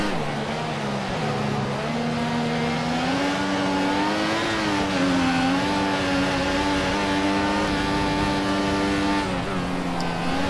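A Formula 1 car engine in the F1 2014 game holds a loud, sustained high-pitched whine at Silverstone, the pitch dipping and rising through a corner before climbing again.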